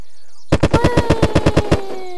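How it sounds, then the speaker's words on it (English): Rapid burst of about eleven pistol shots fired in quick, even succession in the video game Unturned, loud and close, starting after a brief quiet moment and ending with a short ringing tail. "I think this pistol is the kind of pistol that shoots really fast."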